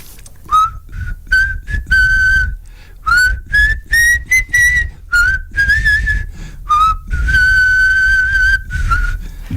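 A person whistles the melody of a rock ballad, a loud, close, clear tune in phrased notes with short breaths between them and no talking.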